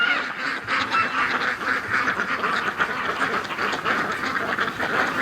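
Steady overlapping quacking from a group of ducks on a winter day, a dense, lively chorus that continues throughout without pause.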